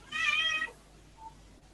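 A small kitten gives a single short meow, close and clear, lasting just over half a second before near silence.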